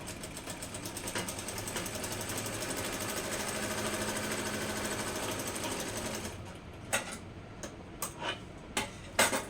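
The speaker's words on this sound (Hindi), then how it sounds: "इस तरह से दोनों तरफ हाथ रख के ऐसे ही प्लेटों के निशान पर ही सिलाई करते हैं" Sewing machine stitches pleats on a suit, running in a steady continuous whir for about six seconds, then stopping and restarting in short separate bursts with pauses between.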